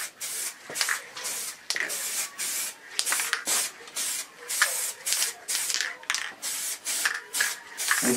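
Frost liquid wrap is sprayed onto a vehicle edge in a rhythmic series of short aerosol bursts, each hiss lasting about half a second with brief gaps, close and fairly loud, with no talking.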